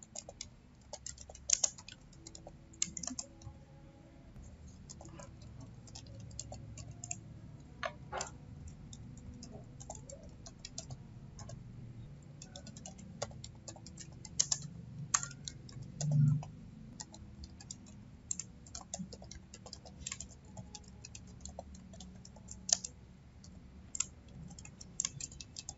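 Sparse, quiet keystrokes tap on a computer keyboard as a command is typed, irregular soft clicks spread over a faint background hum.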